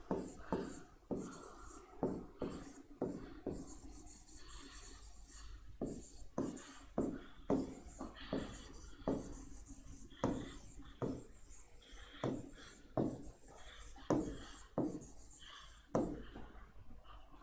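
Chalk or marker strokes scratching across a classroom board as a chemistry teacher writes out a definition, a steady run of short rasping bursts close by with a few brief pauses between them.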